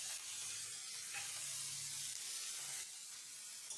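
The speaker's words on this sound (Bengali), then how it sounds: "এখন আমি নিম পাতাগুলোকে তেল দিয়ে ভেজে নেব।" Neem leaves fry in mustard oil in a pan, a steady soft sizzle and hiss that runs throughout at low volume, with no voices.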